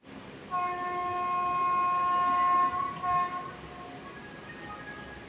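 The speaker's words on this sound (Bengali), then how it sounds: "আমাদের ট্রেন কাঁথি স্টেশন থেকে ছেড়ে দিল" The Digha–Malda Town special express sounds a long steady horn blast at night at Kanthi station, followed by a shorter second blast as it pulls out, over quiet station ambience.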